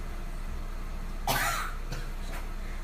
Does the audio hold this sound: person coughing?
yes